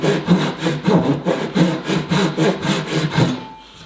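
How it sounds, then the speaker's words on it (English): Hand saw cutting through wood in a workshop, steady back-and-forth rasping strokes, about a dozen even pulls, close and fairly loud before stopping. "I'm going to run my saw right along here"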